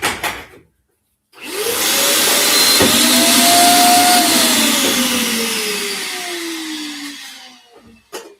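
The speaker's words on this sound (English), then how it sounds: "This is a tiny shop vac, and the filter's plugged because I didn't use a bag." A tiny shop vac with a clogged filter and no bag starts up, whines loudly at a strained rising pitch, then slowly sags in tone before shutting off, with a brief knock partway through.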